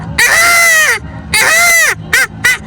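A man imitates a peacock's call with his voice, at a Kumbh Mela religious gathering. He gives two long, loud, nasal wailing cries, then two short sharp yelps, all close and clear.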